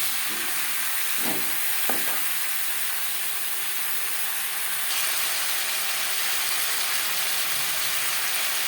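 Cut potato pieces frying in oil in a pan for a light foli fish curry, a loud dense continuous sizzle with a couple of brief knocks early on, alone with no voices.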